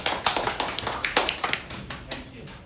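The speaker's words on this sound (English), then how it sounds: "Let me welcome with a huge round of applause, evaluator of this session" Applause from a small audience at a Toastmasters club meeting welcoming the session evaluator, a run of distinct claps rather than a dense roar, fairly close and tapering off toward the end.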